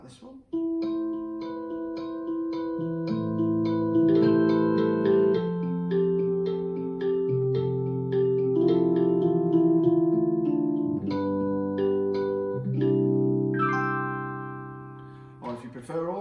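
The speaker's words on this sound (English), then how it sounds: "So for example, popular electric piano sounds like this one." Electric piano voice on a Roland HP-603 digital piano in rosewood, playing sustained chords and a melodic line with bell-like harmonics, steady and close for about sixteen seconds with a brief higher run near the end.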